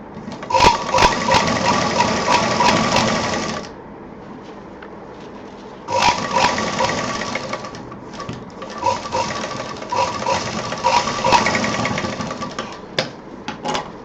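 Sewing machine stitches a party-wear purse in fast rattling bursts, a long run, a pause of near quiet, then further runs with brief stops, loud and close.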